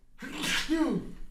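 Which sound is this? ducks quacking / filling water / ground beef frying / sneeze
sneeze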